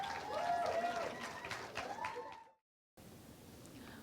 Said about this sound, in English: Give Aperture a round of applause.